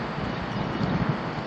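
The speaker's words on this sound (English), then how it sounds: "you can hear it's kind of windy" Steady, broadband wind rushing and buffeting a microphone, constant and fairly loud throughout, with no voices.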